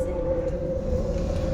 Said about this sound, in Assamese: এতিয়া ট্ৰেইন চলিছে